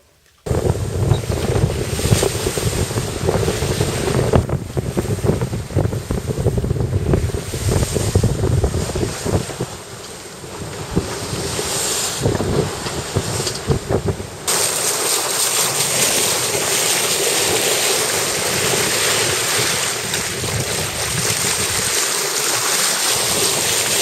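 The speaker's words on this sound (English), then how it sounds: "You probably won't hear this above the wind." Strong wind roars at sea aboard a sailing yacht during a Fastnet race campaign, a loud, steady gusting rush with wave wash and buffeting microphone noise throughout, easing briefly midway before returning.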